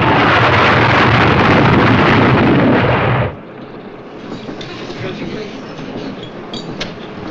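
A train runs with a loud, close rumble and rattle of rolling carriages for a few seconds, then drops abruptly to a quieter, steady interior hum.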